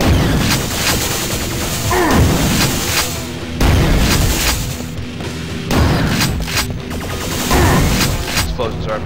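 Video game explosions and heavy gunfire, loud and close, come in repeated booming bursts every couple of seconds, each with a crackling tail.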